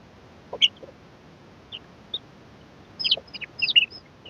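Three-week-old native chicken chicks peeping in short high chirps, a few scattered calls early and then a denser cluster of cheeping near the end, fairly faint against a quiet background.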